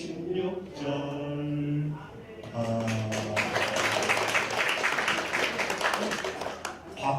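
A church congregation applauding during a Sunday worship service, with a dense patter of many hands swelling up and continuing under a voice that keeps speaking over it, heard from within the room.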